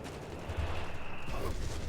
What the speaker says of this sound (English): Oh, huge bombing run!